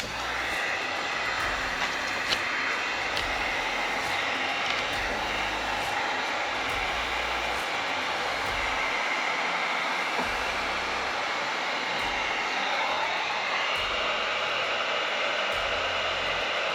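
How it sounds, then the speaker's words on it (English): A heat gun runs steadily on a car panel, giving a constant airy whir and hum for the whole stretch, with faint scraping or clicking now and then. "I've been taking a heat gun and a little scraper and just heating it up."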